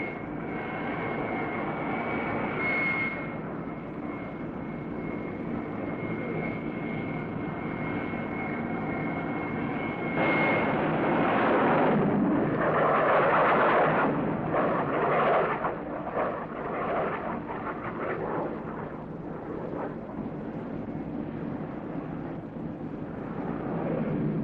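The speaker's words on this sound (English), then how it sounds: "when the catapult is fired, the ring breaks, releasing the plane" A 1954 navy aircraft carrier catapult launches a plane, a Douglas AD among the aircraft aboard, its engines roaring at full thrust in a loud sustained blast that swells midway with a rushing burst, then stays a steady drone.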